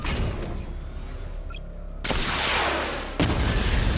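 The Batmobile's missile barrage in Batman Arkham Knight fires off, a quiet mechanical build-up giving way to a sudden loud burst of rapid explosions, then a second blast.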